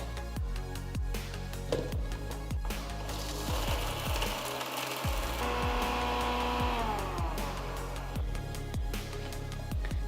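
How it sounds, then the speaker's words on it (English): A mixer grinder whirs steadily as it grinds cooled roasted ingredients to a fine powder, a loud continuous mechanical drone with rattling ticks and a brief dip partway through. "Transfer the cooled ingredients to the mixer jar and grind it to a nice fine powder."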